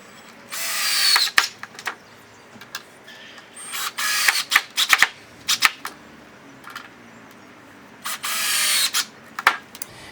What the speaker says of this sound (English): So now we can screw in the other piece.